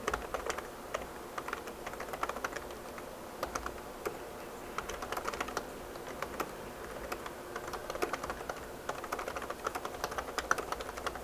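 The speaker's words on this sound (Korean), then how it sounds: "제가 여기서 타이핑을 하겠습니다." Steady typing on a computer keyboard, quick irregular key clicks continuing throughout at a moderate, close level with no voices.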